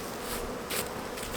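Honey bees buzz steadily at an open hive during a split, a dense, continuous hum close by with a few swells in intensity and no talk.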